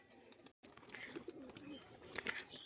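Pigeons let loose on a rooftop, including racing birds with trimmed feathers, giving soft cooing and wing sounds over faint background noise, with a brief dropout near the start.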